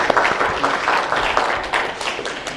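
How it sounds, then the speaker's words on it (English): Small gathering clapping for Nisa, a short burst of close, uneven hand claps at moderate loudness with no talk over it. "let's clap for Nisa"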